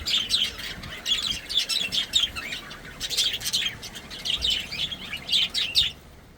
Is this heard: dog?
no